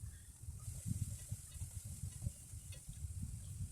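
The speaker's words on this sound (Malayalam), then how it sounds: "വെളിച്ചെണ്ണ ഇവിടെ ചൂടായിട്ടുണ്ട്. അതിലേക്ക് നമ്മൾ ചോപ്പ് ചെയ്ത് വെച്ചിരിക്കുന്ന സവാളയും ഇഞ്ചിയും വെളുത്തുള്ളിയും പച്ചമുളകും കൂടി ഇട്ട്" Chopped onion, ginger, garlic and green chilli fry in hot coconut oil, giving a faint, steady sizzle with soft low stirring bumps scattered throughout.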